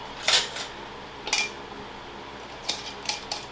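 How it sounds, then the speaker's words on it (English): Metal canning lids set onto freshly wiped jar rims while water-bath canning apple butter: four light, bright metallic clinks, close by and spaced unevenly, over a faint room hiss. "go ahead and place the lids on top"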